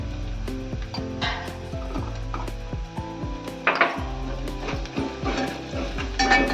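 Malvani masala roasting in an onion tempering, stirred with repeated scraping and clinking strokes of a spoon against the pan over a low sizzle, close and fairly loud with no talking.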